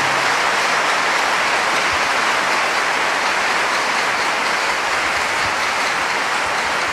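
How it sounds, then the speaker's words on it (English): A church congregation clapping together as an offering during a sermon, sustained loud dense applause filling the whole stretch evenly, with no voices over it. "Give a clap offering to Jesus."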